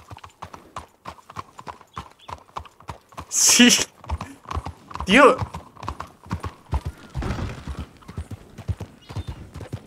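Horse hooves in a Spanish-language roleplay video game give a steady, rapid clip-clop throughout, with a couple of louder neigh-like bursts, while players talk over them.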